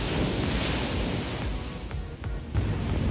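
Atlantic Ocean surf rolls onto Camps Bay beach, a constant broadband wash of breaking waves with a brief dip near the end, mixed with wind buffeting the microphone.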